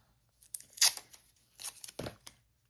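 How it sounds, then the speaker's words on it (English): Tape torn off a roll to hold down curling acrylic paper, heard as a few short, close ripping and crinkling bursts separated by quiet pauses, with no talking. "just continue to tape it down with tape."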